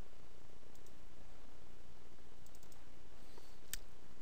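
A computer mouse clicks a few faint, sparse times against a quiet steady background hiss, with no talking.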